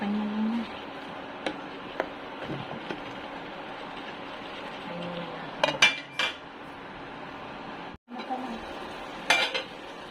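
Utensil scraping and clinking in a pan while sardine and pechay stir-fry is mixed, with intermittent metallic taps and a few louder clanks over a steady background hum, plus brief faint voices.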